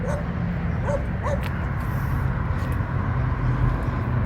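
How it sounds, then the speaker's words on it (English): Small dog in Henderson, West Virginia, giving a few short yips and whimpers over steady car interior road noise, fairly faint and close. "I'm driving that dog crazy."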